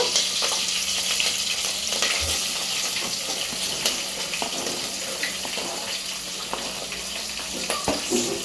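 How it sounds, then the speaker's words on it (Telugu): Chopped onions go into a pan of crab curry cooking on the stove, giving a steady, loud, close sizzle and frying hiss with scattered stirring scrapes and no talk. "మనం తరిగిన ఆనియన్స్ ఉన్నాయి కదా, అవి కూడా వేసేస్తున్నాను."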